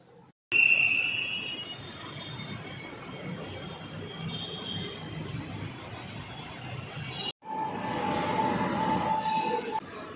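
Kochi Metro train at Edappally station, heard up close: a loud whirring roar of the train with a sustained high wheel or brake squeal, a sudden brief drop, then a steady electric hum and tone as it moves on.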